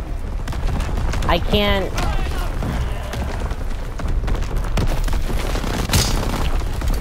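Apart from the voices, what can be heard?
artillery and mortar explosions in video game Call of Duty WWII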